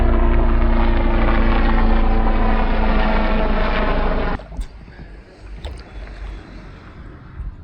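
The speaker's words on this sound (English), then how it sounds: "Norfolk Air Ambulance, I think" The Norfolk Air Ambulance helicopter passes over a river with a loud, steady rotor and engine roar that cuts off abruptly partway through, leaving quiet outdoor ambience with faint splashes.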